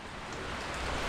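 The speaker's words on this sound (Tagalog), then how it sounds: "So yan yung panahon ngayon, umaambon." Light drizzle falls as a faint, steady, even hiss of rain throughout, with no voices and no distinct drops standing out.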